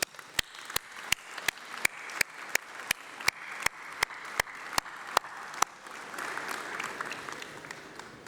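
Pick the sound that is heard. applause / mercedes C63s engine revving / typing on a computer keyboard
applause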